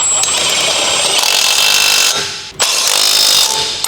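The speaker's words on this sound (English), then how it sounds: "Using the large 21mm short socket, large short extension bar, and large impact wrench," A large impact wrench with a 21mm socket tightens the wheel hub retaining bolts on a Dodge Ram, a loud continuous whirring hammer that briefly cuts out and restarts.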